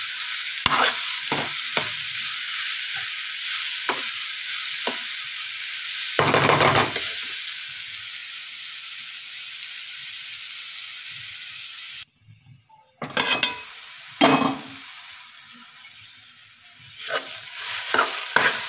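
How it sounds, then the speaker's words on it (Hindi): Cauliflower cooking covered in a pan sizzles and hisses steadily, broken by several sharp scraping stirs and clatters of a spoon and lid, close and fairly loud. "2 मिनट इसे ढककर पका लेंगे। बीच में एक बार चला कर देखेंगे।"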